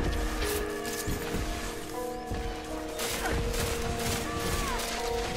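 Grenade blasts in the shooter game Destiny 2, a dense run of sharp booming bursts and crackling gunfire repeating every second or so over a constant loud rumble of battle.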